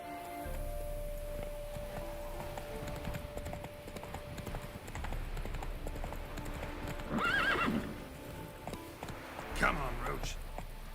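Roach the horse in The Witcher 3 galloping with rhythmic hoof clip-clops and a couple of loud neighs, while someone talks over the game sounds.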